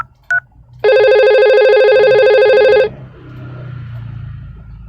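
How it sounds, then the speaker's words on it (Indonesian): A simulated IP phone in Cisco Packet Tracer gives a short blip, then a steady, bright electronic ring tone lasting about two seconds before cutting off to quiet background hum. "Kita coba telepon IP phone kedua dari Surabaya sendiri"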